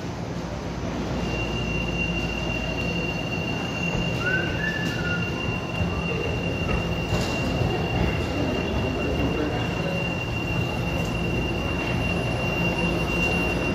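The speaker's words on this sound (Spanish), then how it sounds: "Ahí llega el tren Itachi." A Lima Metro Line 2 subway train pulls into an underground station, its wheels squealing steadily with rumbling rail noise and a high whine, loud and continuous throughout.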